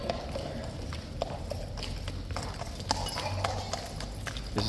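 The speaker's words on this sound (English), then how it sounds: "This is an enthusiastic horse, I can't wait to get to work." Guard horse hooves at Horse Guards in London, a rapid irregular run of sharp clip-clops on hard ground over a constant outdoor crowd murmur, fairly close and steady throughout.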